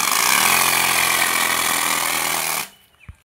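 A modified Yamaha RX100 two-stroke motorcycle engine revs hard and loud up close for over two seconds, then cuts off abruptly into near silence with a brief small knock at the end.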